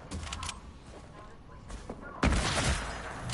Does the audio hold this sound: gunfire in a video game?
yes